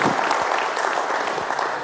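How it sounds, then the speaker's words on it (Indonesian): An audience at an evening economic forum in Jogja breaks into steady, sustained applause, a dense, even clapping throughout. "tepuk tangan dulu untuk Pak Heri Dendi."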